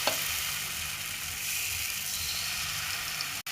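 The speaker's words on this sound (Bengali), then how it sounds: "এখন ফ্রাই প্যানে আমি ডোটা দিয়ে দেব।" Patishapta pitha batter sizzles steadily in an oil-brushed frying pan, a close, even crackling hiss that continues unbroken, with one brief click near the end.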